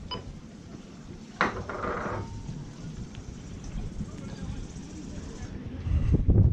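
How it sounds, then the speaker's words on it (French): Wind gusting over an open boat deck on a blustery morning of around 18 knots: a steady, broad rushing roar, loud and close, with brief clattering knocks and a heavier buffet near the end. "Il y a du vent, hein, ça souffle."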